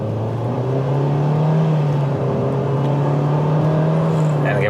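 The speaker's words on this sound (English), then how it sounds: "audio sample of what the CVT sounds like" A 2022 Nissan Kicks with a CVT drones at a steady, loud, constant pitch while driving around 30 past trucks, the engine note holding even with no gear changes.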